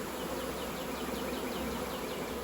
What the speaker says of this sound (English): there's bees fanning at the top over there